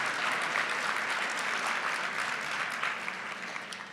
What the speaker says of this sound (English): can we please give a round of applause, please, to our help staff, wait staff at the Marriott who are unionized